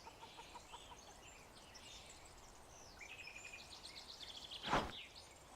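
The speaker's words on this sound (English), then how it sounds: "I for sure hear a chicken." Soft, scattered clucks and calls from a chicken in an outdoor setting, faint and intermittent, with one brief louder burst near the end.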